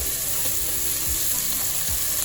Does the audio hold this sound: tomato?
yes